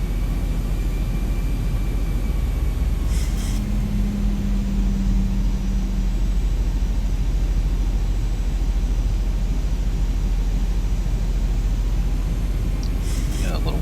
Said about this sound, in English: let's go to 10 on the flaps